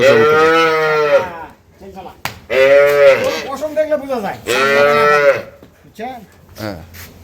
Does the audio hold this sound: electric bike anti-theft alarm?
no